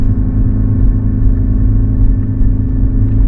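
Car engine braking in first gear while descending a steep winter mountain road: a steady, close low rumble and drone with a slight wavering pulse, heard alone without speech.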